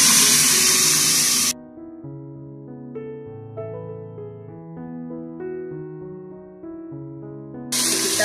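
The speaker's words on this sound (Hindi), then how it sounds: "अब ये प्याज ब्राउन हो गया, अब मैं इसके अंदर थोड़ा सा पानी डालूंगी।" Water is poured into a pan of browned onions for a chickpea (choliya) pulao, giving a short burst of rushing, hissing splash at the start and again at the end, with steady background music in between.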